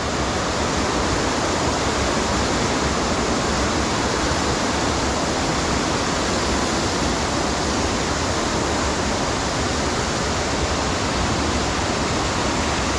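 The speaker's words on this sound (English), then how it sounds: "see where the waterfall drops down that 10 to 15 foot initially before it hits the horse's tail" Harmby waterfall dropping about 10 to 15 feet, a dense, unbroken roar of falling water, loud and near, with no voices.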